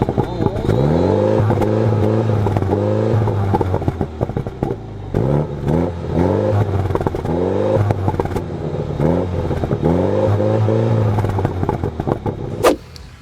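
A MINI John Cooper Works four-cylinder engine runs with a loud, throaty idle and repeated revs that rise and fall, close by, with someone talking over it.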